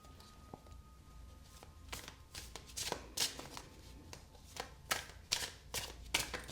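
Tarot cards being shuffled by hand during a reading, soft riffling and slapping bursts repeating in an uneven rhythm, close and fairly quiet.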